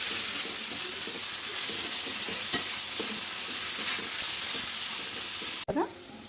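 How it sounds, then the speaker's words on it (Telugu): Ivy gourd pieces frying in a pan with salt, a loud steady sizzle close up, with occasional light stirring clinks and a sharp clatter near the end. "బాగా ఎర్ర వేగాలండి ముక్కలు"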